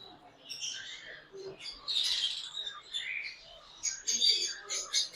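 African grey parrot chicks give soft, high chirps and squeaky calls in irregular bursts, close by and fairly quiet.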